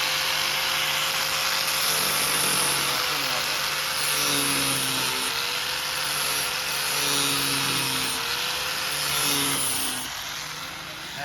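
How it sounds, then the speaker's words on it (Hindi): A power tool cuts through the plastic bumper of a Kia Seltos GT-Line to fit an exhaust, giving a high, buzzing whine that rises and falls in pitch across several passes, fairly quiet and steady. "बम्पर कटिंग का प्रोसेस चल रहा है।"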